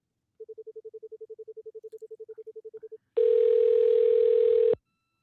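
A telephone dial tone pulses in a steady string of short even beeps for a few seconds, then a single loud continuous tone holds before cutting off as a call is placed to an auto attendant.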